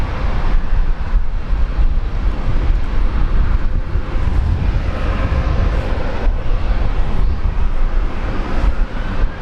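A Velocity airliner rolls for takeoff on runway 19 left at Brisbane Airport, a loud, sustained engine roar with rumbling low end and wind buffeting, steady throughout.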